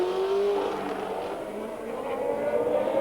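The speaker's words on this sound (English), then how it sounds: "with the single McLaren left now of John Watson. There it is in the lead on lap" A 1982 McLaren Formula 1 car races at the Detroit Grand Prix, its engine holding a steady high-pitched whine that shifts pitch slightly, heard at a distance without speech.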